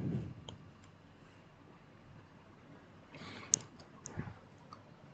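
A few faint computer mouse clicks, scattered and sparse over quiet room noise.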